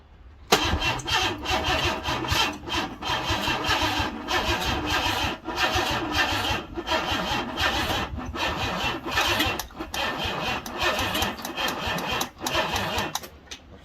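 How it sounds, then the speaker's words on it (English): A Ford Cortina Mk4 Ghia 2.3 V6 engine is cranked repeatedly by its starter in a long series of rhythmic, laboring turns with short gaps, loud and close throughout, before falling quiet at the end. "I'll just have to crank the engine around a little bit by hand."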